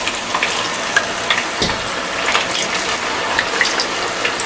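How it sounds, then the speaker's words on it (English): Potato pieces frying in hot oil for codfish and chips, a continuous close sizzle and crackle with sharper spits and bursts scattered throughout, no talk. "And then we want to fry the potatoes, yep, also until golden brown."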